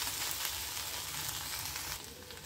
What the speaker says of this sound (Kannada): ಹೀಗೆ ಓಪನ್ನಾಗೆ ಇಟ್ಕೊಂಡು ಹುರಿಬೇಕು.